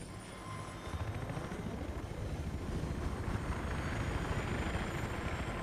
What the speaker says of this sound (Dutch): Oh, oh, ik hoor een helikopter.